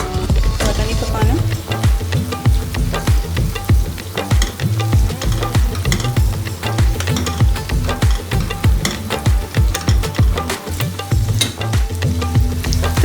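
Onions, tomatoes and green chillies fry loudly in a pot, a continuous sizzle broken by frequent scraping and stirring clatters of a spoon against the metal.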